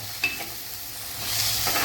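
Fenugreek leaves fry in a seed tempering on a low flame, giving a soft continuous sizzle with occasional spoon clinks against the pan and stirring that swells slightly toward the end.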